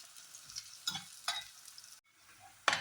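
Garlic, ginger and whole green chillies frying in oil for a bitter gourd pickle, with crisp sizzling bursts and stirring scrapes of a spoon in the pan, intermittent and close, ending in a sharp burst.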